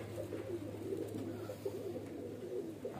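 Adult pigeons cooing inside a loft in Shrirampur, a soft, steady murmur of overlapping low coos running throughout with a faint background hum.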